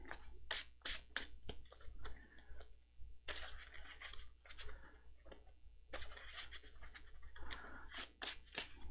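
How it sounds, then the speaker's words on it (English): A deck of playing cards is shuffled close up for a card game, making a rapid run of crisp riffling clicks and flicks in uneven bursts, with short pauses between them. "let me just shuffle this real quick"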